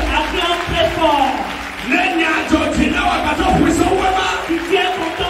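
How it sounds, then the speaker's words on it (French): A church congregation shouting loud acclamation and cheers of praise, a dense crowd roar swelling and falling in waves with scattered clapping, while a preacher's voice carries over it. "Acclame très fort."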